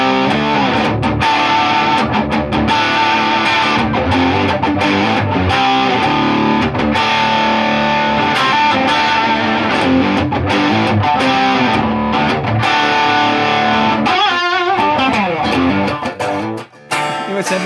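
Paul Reed Smith SC250 single-cut electric guitar with 25-inch scale, green finish, played loud through an amp with distorted, effected tone, sustained chords and riffs filling the passage before a brief drop near the end.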